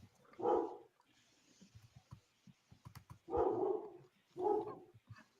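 A dog barks three times in separate bursts, fairly close, with soft clicks and rustles between them and no talking.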